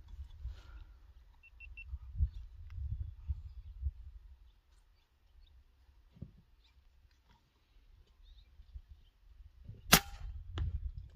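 An air rifle fires at ground squirrels: a faint earlier pop, then one sharp, loud crack near the end, over quiet outdoor rumble.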